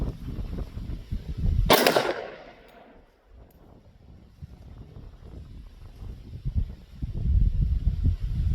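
A single sharp, loud gunshot from a Girsan MC 1911 C 10mm carry pistol fired outdoors, echoing briefly before wind and low rumbling background noise return.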